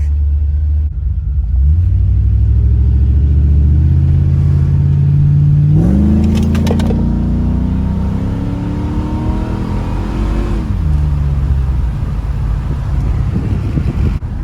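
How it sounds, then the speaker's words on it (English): An LS-swapped BMW E90 330i accelerating wide open on a test drive, the V8 rumble rising in pitch through gear changes, loud and close with wind noise, then easing back off. "Got to drive moderate, 4-second wide open, and bring it back."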